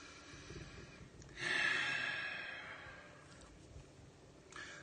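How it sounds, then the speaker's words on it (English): A single deep breath, drawn in and slowly let out, rises clearly above a quiet background with no talking. "Take a deep breath."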